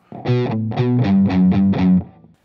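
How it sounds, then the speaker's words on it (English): A slow, chugging electric guitar riff with heavy palm-muted low notes, distorted, about six even stabs ringing out in a steady rhythm. "With the palm muting to give it pretty bass heavy sound."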